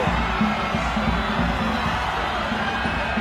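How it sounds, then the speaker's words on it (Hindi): A dense crowd murmurs and calls out outside the National School of Drama, with a steady, loud wash of many voices and occasional cheers and whoops throughout. "देखो गाइस कितनी भीड़ है"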